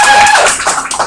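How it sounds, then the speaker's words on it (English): Audience applause at an open mic night, a brief dense burst of clapping with a whistle-like tone near the start, steady and fairly loud throughout. "Let's give her another round of applause"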